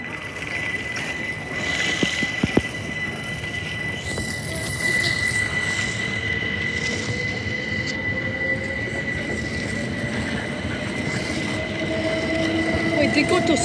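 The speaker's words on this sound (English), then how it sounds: "a Gatwick Express train" A Gatwick Express train at Gatwick Airport rumbles steadily past close by, with a high whine and squealing wheels over a continuous rolling roar that swells toward the end.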